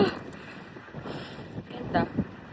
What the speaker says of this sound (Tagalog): Yung hangin pa talaga na malala.